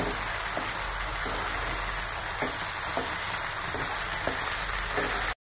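Spice paste (masala) for cumin hilsa fish fries in hot oil with a steady, close sizzle, broken by soft, evenly spaced stirring clicks, and no talking.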